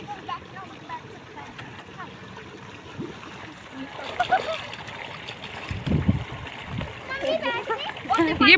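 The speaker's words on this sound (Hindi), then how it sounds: "ये देखिए छोटी बहन पानी में खेल रही है" A young girl plays in water at a paddy-planting field, with splashes and sloshes growing louder and more frequent toward the end, over steady outdoor background noise and intermittent voices.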